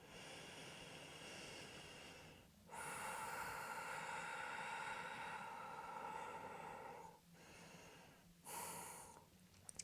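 Deep, steady breathing during a yoga flow while holding a half splits pose, with long airy inhales and exhales and brief pauses between breaths, close and clear with no talking.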